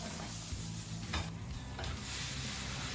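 Diced onions and ground garlic sizzle steadily in a hot pan, a constant close frying hiss with occasional stirring scrapes and no talking.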